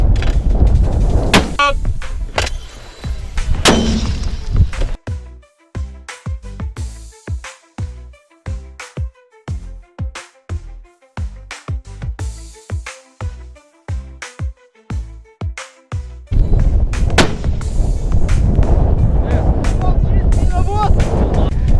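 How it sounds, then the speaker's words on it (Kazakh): Mortar rounds fire one after another during artillery unit training, a series of sharp, loud booming reports at a steady pace over the middle stretch, with wind noise and shouting voices before and after. "Миномет! Миномет!"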